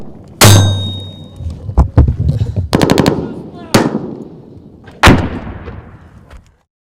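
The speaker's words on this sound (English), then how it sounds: "Ready to fire? Shoot it!" Heavy weapon rounds fired in combat, with several loud, sharp blasts spaced unevenly and ringing decays between them, close and dominating.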